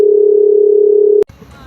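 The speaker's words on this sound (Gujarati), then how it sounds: "ફરીથી ફોન આવી ગયો" Phone tone: a loud steady single-pitched electronic tone holds for over a second and stops abruptly, followed by faint background noise.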